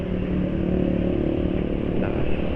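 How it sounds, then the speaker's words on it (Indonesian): An automatic scooter engine idling roughly with overly thin gear oil, a steady close mechanical drone with a faint uneven clatter and a slight rise in pitch near the end. "terlalu encer, suara mesin cek kasar"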